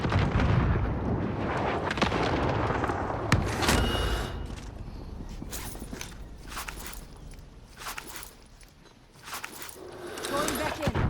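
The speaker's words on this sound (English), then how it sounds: "unfortunately get a cluster strike called on me" Cluster strike explosions in a video game shooter, a string of booming impacts and crackling bursts rolling over several seconds under steady talking, with scattered sharp pops and footstep-like thuds.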